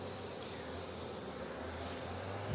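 Honeybees buzz at a populous hive during queen introduction, a dense, continuous drone close to the listener with a steady hum that holds level throughout and swells slightly at the end.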